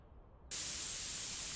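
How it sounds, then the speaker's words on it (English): Leak-finding spray in a car dealer simulator game hisses on abruptly after a quiet half second and holds as a steady, loud, broadband spray to the end. "we need to spray it and see where"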